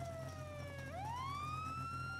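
A police car siren in the video game GTA 5 wails steadily and loud, its pitch sliding down and then sweeping back up in one continuous electronic cycle over a low engine hum.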